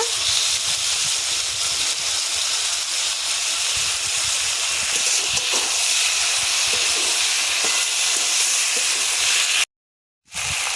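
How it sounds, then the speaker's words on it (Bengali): Ridge gourd fries in a pan with bay leaves and onion paste, giving a loud, steady, close sizzle and hiss that runs without a break until a sudden brief silence near the end. "ঝিঙেগুলো ভালো করে কষিয়ে নেব। দিয়ে দেব দুটো তেজপাতা আর দেব পেঁয়াজ বাটা।"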